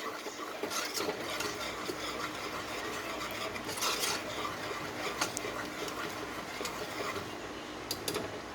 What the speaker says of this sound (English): Whisk it in real good.